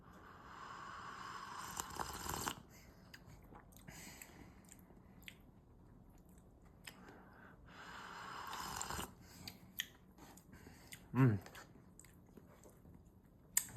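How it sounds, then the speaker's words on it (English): Slurping of Japanese instant ramen broth, with a few soft sips and swallows close up, separated by quiet pauses and light mouth noises. "First, I'm gonna drink the soup."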